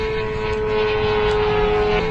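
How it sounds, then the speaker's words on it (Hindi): Shahed 136 drone with its air-cooled piston engine in flight, a steady droning buzz with a strong constant tone, continuous and fairly loud throughout with no talking. "जब ड्रोन हवा में उड़ता है तो यह कुछ ऐसा साउंड करता है।"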